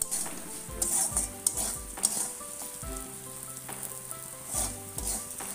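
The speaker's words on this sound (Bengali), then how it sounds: "ডালটাকে হালকা করে একটু ভেজে নেব," Masoor lentils fry in a pan, sizzling steadily while a spatula scrapes and stirs in repeated close knocks.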